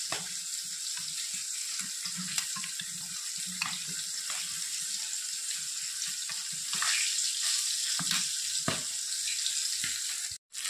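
Catla fish fry in a pan with a continuous bright sizzle and crackle, with occasional soft clinks and stirring scrapes, close and fairly quiet, with no talking.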